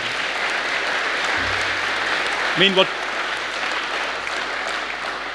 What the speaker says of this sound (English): Yeah, maybe applause to them.